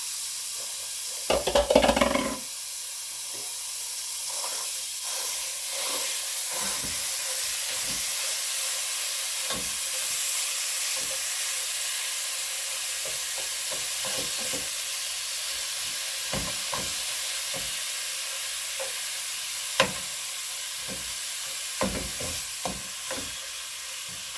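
A pound of ground beef frying in a preheated pan, a steady soft hiss and sizzle throughout with an occasional clink of a utensil and one brief louder scrape near the start.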